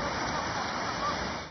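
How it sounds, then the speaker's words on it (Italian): Floodwater rushes and overflows from storm drains after hours of thunderstorms, a dense, steady roar of pouring water that stays loud and unbroken throughout. "Alcune auto rimangono intrappolate nell'acqua che tracima dai tombini"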